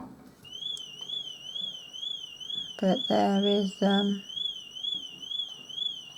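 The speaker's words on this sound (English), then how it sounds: "Apologies for the car alarm in the background." A car alarm wails with a rising and falling electronic tone in the background while a person talks briefly partway through.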